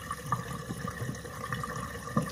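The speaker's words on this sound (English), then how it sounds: "It's draining all of the water right here." Bosch dishwasher draining water during a drain-fault check, a steady low gurgling wash of water with small splashy surges and a brief louder gulp near the end, no talking.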